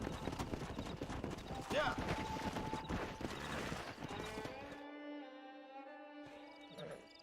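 Horse hooves clip-clop in a Red Dead Redemption ranch scene, a steady rhythmic plodding mixed with game ambience and brief speech, then fading as a sustained musical tone takes over near the end.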